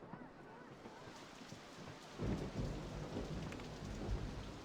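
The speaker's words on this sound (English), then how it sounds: "Starting to rain." Rain and thunder in the Rollercoaster Tycoon video game: steady rain hiss throughout, swelling with a louder rumbling burst from about the midpoint onward.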